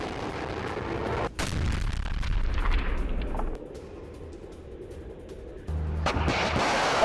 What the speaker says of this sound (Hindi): कीव पर रूस के बैलिस्टिक मिसाइल हमले की एक खबर और तस्वीर